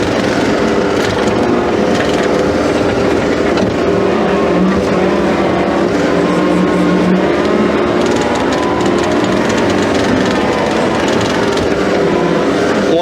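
A John Deere skid steer on a residential French drain job runs with a loud, steady engine drone that holds at an even level throughout, with no speech.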